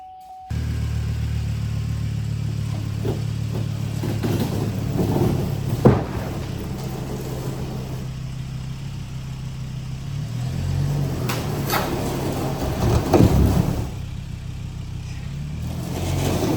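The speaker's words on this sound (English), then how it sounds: "our big old truck, Big Bertha, in order to back her up and use her tow hitch so we can tow out the table" A big old truck called Big Bertha runs steadily nearby while backing up to tow a table, its engine rumbling with a few revs and bumps over the continuous drone.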